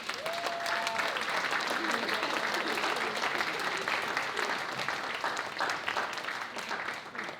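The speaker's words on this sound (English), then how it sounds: "Give them a round of applause." Sustained audience applause at a high school debate event greets the coaching staff as they come on stage, a dense, steady wash of many hands clapping that holds at a fairly even level before easing slightly at the end.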